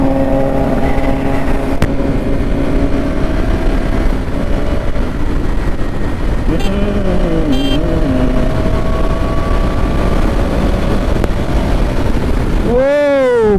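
A motorcycle cruises steadily along a highway in traffic, its engine droning loud and close with wind, a passing vehicle sweeping by near the end, and a rider speaking at times.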